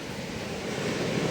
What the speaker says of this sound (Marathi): समोर या लाटा थंड हवा